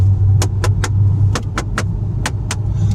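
Hard plastic interior panels inside a Mitsubishi Evo X are knocked with the knuckles in three quick groups of close, dry taps, eight in all, over a steady low rumble from the car.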